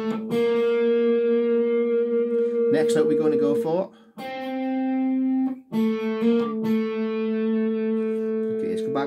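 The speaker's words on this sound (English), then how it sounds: "let's put a bit of distortion on it, see what it sounds like" Electric guitar through distortion sounds sustained single notes, each held for a few seconds with brief breaks between, loud and close, while someone talks briefly over it.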